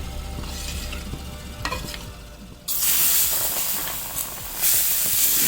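Millet dosa batter is poured onto a hot pan and breaks into a loud, steady sizzle partway through, after quieter scraping and stirring sounds. The frying is close and continuous, with no speech.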